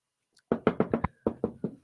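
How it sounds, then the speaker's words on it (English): Knuckles rap on wood in two quick bursts of close, crisp knocks, five then three, with short pauses and no talk. "Knocking on all sorts of wood."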